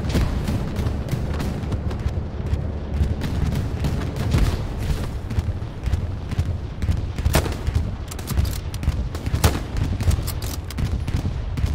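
Gunfire and a frag grenade blast fill a video game firefight in a street battle in Carentan, with dense, continuous bursts of shots and booms that stay loud throughout and have no pause.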